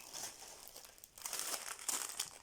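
A craft kit package, a cross-stitch canvas set, being unwrapped up close with soft crinkling of plastic wrap that grows louder and busier after a brief pause.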